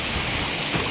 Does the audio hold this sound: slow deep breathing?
no